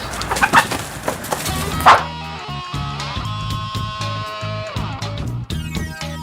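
Hens cluck and squawk in a short burst, then quieter clucking continues over a steady background drone.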